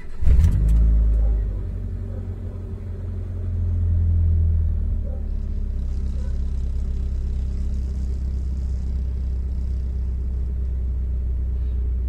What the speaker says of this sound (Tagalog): hayaan lang natin siya tumatakbo yung makina.